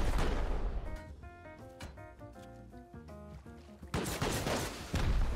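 Turret gunfire rattles off in loud rapid bursts at a sulfur quarry in a video game. The volleys are near and heavy at the start and end, with tonal game sounds in between and no talk.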